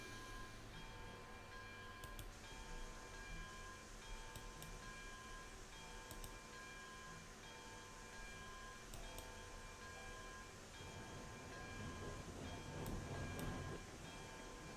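A train in the game RailRoads Online rumbles along steadily with clattering wheels and faint ticking, its rolling noise swelling slightly toward the end; no one speaks.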